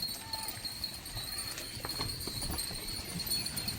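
Cows hurrying out through an opened gate on a rainy day, their hooves thudding in a loose, continuous clatter at moderate distance, with a faint voice in the background.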